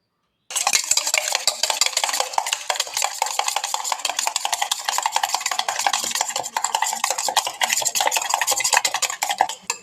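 Eggs and salt are beaten hard in a bowl for a street-stall style omelette, a rapid, relentless clatter of whisking strokes up close that starts abruptly and keeps going, with no talk.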